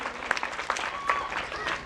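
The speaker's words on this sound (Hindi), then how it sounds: "जोरदार तालियों की गड़गड़ाहट होती रहे दानियों के नाम की" Short bursts of audience clapping at a Bhagwat katha religious gathering in Saidpur, a few brief scattered claps rising and fading under a background of murmur.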